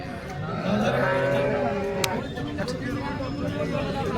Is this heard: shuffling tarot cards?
no